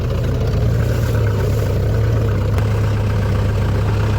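Farm tractor engine idling, a steady low droning rumble with a constant hum, close and loud throughout.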